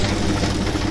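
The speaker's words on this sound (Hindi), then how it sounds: "देख सकते हो कितना लोड ले रहा है ये ट्रैक्टर, कभी कभी जो है ज़्यादा आवाज़ देता है" A tractor engine running under load as it drives a mini rice mill, a steady close, dense low rumble with vibration and a knocking undertone throughout, no speech.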